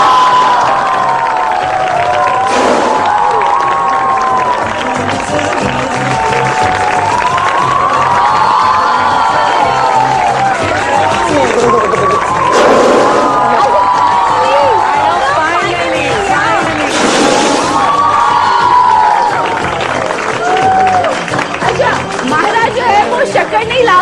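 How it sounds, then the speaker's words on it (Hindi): A studio audience at a morning show cheers and applauds for Mahira Khan, with loud sustained crowd shouting, clapping and swelling whoops over about twenty seconds and a host's voice mixed in. "आप सबकी भरपूर तालियों में"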